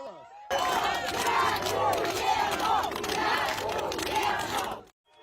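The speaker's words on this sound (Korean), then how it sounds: "주민들이 거리로 나와 환호합니다." Residents of Kherson pour into the streets after the Russian troops leave, a crowd cheering and shouting in a sustained, loud roar with individual voices rising above it, then cutting off abruptly.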